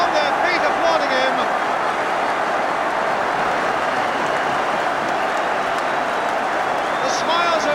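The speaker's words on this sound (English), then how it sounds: "On the Arsenal bench as well as in the Arsenal goal, they're on their feet applauding him." Football crowd at a 1978 FA Cup semi-final between Arsenal and Orient, with the Arsenal bench on its feet, applauds and roars in a loud, continuous wash of clapping and cheering under a commentator's voice.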